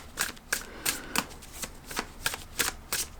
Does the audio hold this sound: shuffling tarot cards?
yes